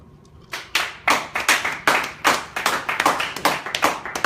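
Scattered audience clapping as a show of support for Mayweather, coming in uneven bursts and sharp hand claps rather than a steady roar, fairly close and with no talk over it.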